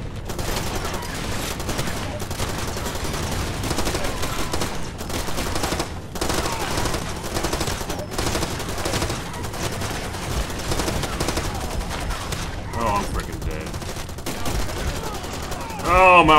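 M16 rifle fire in the video game Far Cry 2, with dense, continuous bursts of gunshots and battle noise filling the whole stretch, loud and busy throughout.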